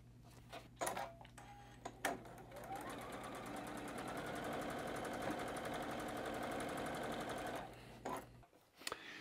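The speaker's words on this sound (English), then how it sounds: "we're just gonna run a quarter inch seam through there" A sewing machine runs a quarter inch seam through batik fabric in one steady continuous burst of whirring, with a few handling knocks at the start and end.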